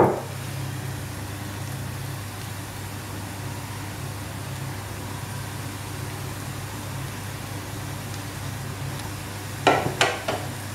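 Onions and turmeric powder frying in a pan give a steady soft sizzle under a low hum, with a few brief scraping knocks of stirring near the end.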